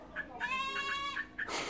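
A neighbor's goat bleats beside a countryside river in the evening, giving a long wavering bleat with shorter calls before and after it. The call sounds fairly close and loud over quiet outdoor ambience.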